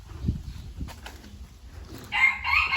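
A rooster crows outdoors in a rural Thai village setting, a bright, strained crow rising late in the clip after some low background rumble and shuffling.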